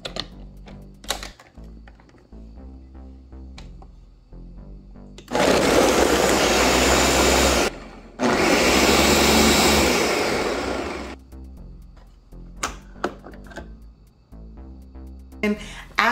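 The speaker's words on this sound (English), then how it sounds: "then I just go ahead and blend that up" A kitchen blender whirs at full power while blending a mango smoothie, a loud steady roar lasting several seconds with one brief stop, surrounded by quieter clicks and knocks of handling before and after.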